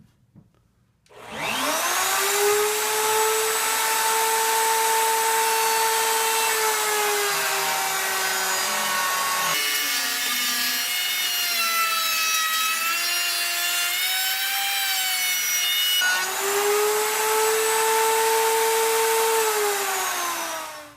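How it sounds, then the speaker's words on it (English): A router cuts steadily through a piece of poplar for about twenty seconds, producing a loud, continuous whine with a shifting pitch that dips in the middle section. No voices are heard. "run the rest of this piece of poplar through the router"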